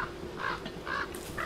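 Birds in the game Don't Starve Together let out three harsh, crow-like caws spaced evenly apart, each short and clear over a faint background hum.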